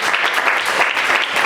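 An audience bursts into applause, a dense, steady clatter of many hands clapping nearby, sustained for a brief stretch without talk.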